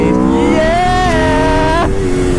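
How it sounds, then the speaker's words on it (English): An Aprilia RSV4R superbike's V4 engine revs up with a steady, loud harmonic drone, its pitch climbing, holding, then dropping sharply near the end. "Aprilias, well, you got a V4 on this beast."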